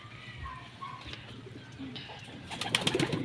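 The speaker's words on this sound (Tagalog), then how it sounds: "Yan ang ating mga kalapate." Pet pigeons cooing in a loft, soft low murmuring coos close by, followed near the end by a brighter burst of rustling and chirpy calls, with a steady background hum.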